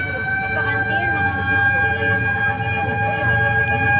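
A loud fire truck siren wails continuously nearby at a building fire in Angeles City, Philippines, its steady tones ringing throughout, with people talking underneath.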